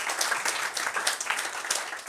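Brief burst of clapping in a geography classroom, a quick run of light, irregular hand claps celebrating a birthday, fairly soft and close, with no clear talk over it.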